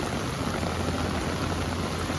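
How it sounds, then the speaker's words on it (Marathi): Heavy stormy rain pours down in a steady, dense, continuous hiss that is loud and unbroken throughout, with no voices. "एकदम तुफान पाऊस चालू झाला"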